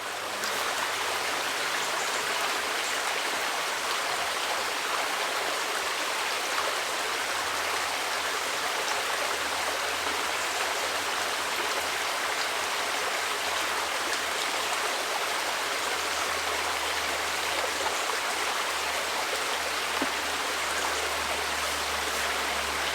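Steady, continuous rush of a small creek flowing beside a house in the UK outdoors, an even broadband burble with no breaks and no talking.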